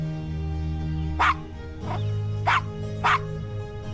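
A small dog in the Gabriel Knight: Sins of the Fathers adventure game gives four short, sharp yips at uneven intervals over a steady synthesized music bed.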